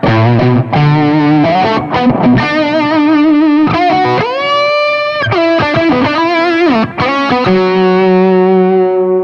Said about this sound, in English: it's a tube-driven distortion device, so it has another really nice, warm, fat quality to it